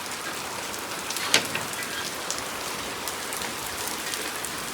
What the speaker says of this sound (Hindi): स्पीड से बारिश आ गई